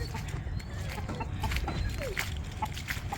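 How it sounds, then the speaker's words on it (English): Several roosters cluck close by in short, scattered, agitated calls over a low rumbling background, with no talking in between. "Calm down, roosters."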